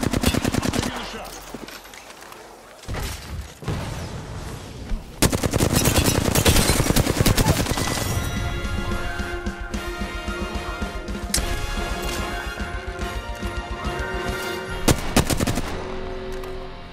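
Gunfire from the video game Apex Legends, with loud bursts and sustained automatic fire mixed with crashes and impacts, and brief voice lines heard among the noise.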